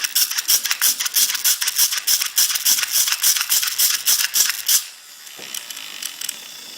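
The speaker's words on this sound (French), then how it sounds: "Mais si on vient marcher comme ceci, la diode électroluminescente s'allume beaucoup plus," A shoe fitted with an electricity-generating mechanism rattles with each step: a rapid, close series of sharp clicking bursts in an uneven rhythm for about five seconds, then a sudden stop into a faint hum.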